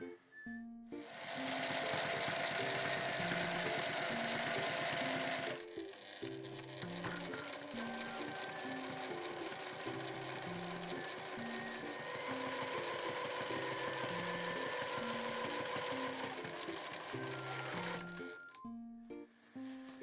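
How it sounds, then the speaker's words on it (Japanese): A sewing machine runs a steady edge stitch along the seam of homemade room pants, a close, continuous whirring rattle lasting about five seconds, then resuming after a short pause with slight speed changes, no talking. "この状態から際をステッチ入れていきます"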